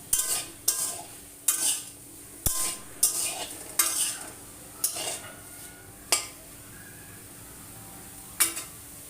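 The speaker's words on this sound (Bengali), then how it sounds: "একটু একটু ভাজা ভাজা হয়ে গেলে আমি এর ভিতরে পেঁপে আর সিমটা দিয়ে দেবো" Papaya and beans being stirred in a pan for an oil-free mixed vegetable dish, giving repeated sharp scraping and clattering strokes at an uneven rhythm, close and fairly loud, with no voices.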